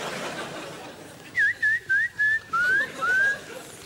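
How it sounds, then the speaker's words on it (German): A short run of small bird chirps plays from a computer: six clear, high, whistle-like calls in quick succession over a quiet background. "da sind 3 Vögelchen hier auf meinem Computer"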